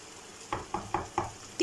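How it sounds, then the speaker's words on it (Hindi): Chicken cooking with tomato puree in a pot gives a low, soft sizzle, broken by about five quick scraping stir strokes at a steady rhythm, close and distinct. "अगेन मैं इसको थोड़ा सा फ्राई करूँगी, थोड़ा सा कुक करूँगी चिकन के साथ।"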